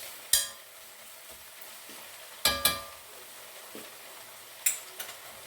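Cabbage with bacon bits and okra frying in a pan for southern fried cabbage, a steady low sizzle broken by a few sharp clinks and taps of a utensil against the cookware.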